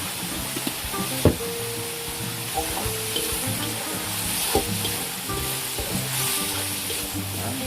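Ground pork and sliced hotdog season with black pepper and rock salt as they fry, crackling and sizzling continuously while a spatula scrapes and stirs the pan with occasional knocks.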